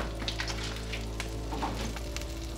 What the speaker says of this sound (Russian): небольшой кусман сливочного масла. Отправляем на сковородку растапливаться